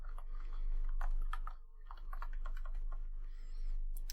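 Soft, quick keystrokes on a computer keyboard, close and fairly faint over a steady low hum, tapping in short uneven runs with a brief pause midway.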